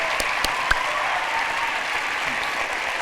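An audience gives a standing ovation at the close of a public conversation with U.S. Supreme Court Justice Sonia Sotomayor, steady applause from a large crowd with a few sharper nearby claps standing out.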